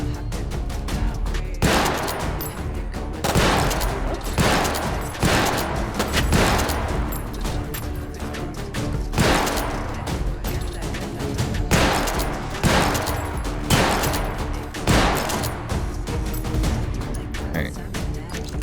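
Rapid gunfire in the VR shooter game H3VR, with repeated bursts of sharp shots in a steady, dense rhythm throughout, loud and close, with a voice talking over the shooting.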